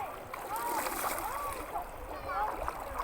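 Water sloshing and splashing in a cold river as someone bathes with soap and a dipper, a close, continuous watery churn with occasional speech mixed in.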